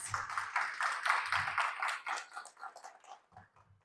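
Audience applause at an indoor speaker-series talk on physiotherapy for older adults, a burst of scattered hand claps that swells and then thins out over a few seconds, with light thumps underneath.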